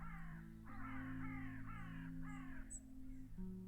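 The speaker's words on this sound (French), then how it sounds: "Pourquoi les oiseaux gueulent quand je monte la caméra?" Crows caw repeatedly in a series of harsh calls, fairly close, over a steady low hum.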